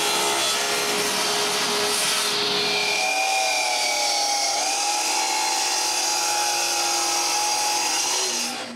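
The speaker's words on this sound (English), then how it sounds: "For this, I use some of my nice Baltic birch plywood. I find a piece and cut it to the right size." Baltic birch plywood is cut to size with a power saw, a loud, steady whining buzz lasting the whole stretch, with the pitch shifting slightly as the blade moves through the sheet and trailing off at the end.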